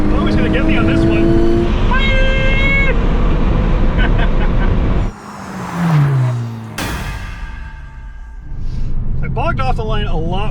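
A 2021 Hyundai Veloster N DCT and a 2021 Honda Civic Type R drag race, loud engines revving and rising in pitch through gear shifts, with a brief drop and a surge as the cars pull away.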